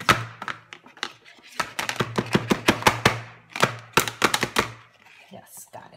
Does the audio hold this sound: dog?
no